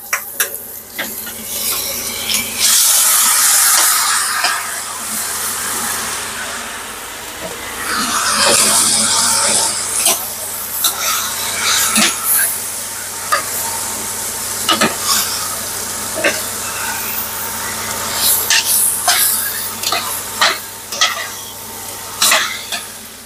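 Beef chunks for Vietnamese-style bo kho go into a hot pot and fry, a loud steady sizzle broken by scraping stirs and clanks of a utensil against the pot, with no talking.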